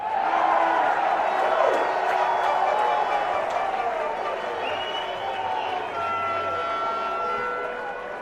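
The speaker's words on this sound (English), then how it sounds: "Crowd in Edmonton trying to clap Campbell out." A crowd at an Edmonton baseball game claps along in a rhythmic, steady stretch, heard at a distance while an announcer talks continuously over it.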